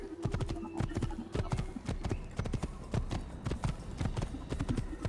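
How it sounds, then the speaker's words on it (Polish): Horse galloping in the video game Assassin's Creed, a fast, steady rhythm of sharp hoof clops close up and fairly loud, with a brief whinny-like tone early on. "No dalej, pędź konia."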